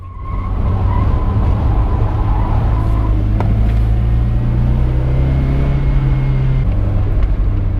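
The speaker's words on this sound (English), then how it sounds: "Second gear on full throttle." Car engine at full throttle in second gear with lard or margarine standing in for engine oil and only three cylinders firing, a loud, steady strained drone with tire noise and a slight shift in pitch near the end, no voices.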